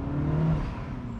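A 2023 Mini Cooper S Cabriolet with a turbocharged engine accelerates, a steady close engine drone with a rising tone, heard from inside the car without any talking.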